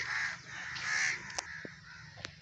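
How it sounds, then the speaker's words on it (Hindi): Crows cawing among dense trees at a graveyard site, harsh repeated calls clustered at the start and then a few scattered sharper caws, fairly close with no voices. "परिंदियां की किसी चहचहान की जी ना आवाज़ सुन रहे हो गए"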